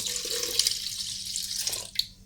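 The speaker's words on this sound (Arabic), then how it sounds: "تاني حاجة معايا كوباية مية دافية، تمام، وانزل بيها فوق الطحينة بتاعتي" Warm water poured from a glass onto sesame tahini in a blender jar, a steady close splashing wash with a brighter gush near the end, heard alone without talk.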